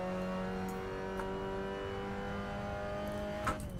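A Suzuki car engine held at high revs on the Nurburgring, a steady droning whine heard from inside the cabin, sustained and even with a faint knock near the end and no talking.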